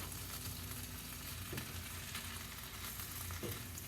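Celery, bell peppers and onions fry in a pot with a steady, close sizzle, broken by a couple of brief stirring scrapes.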